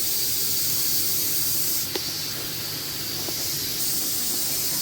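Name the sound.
onions frying in hot oil in a pan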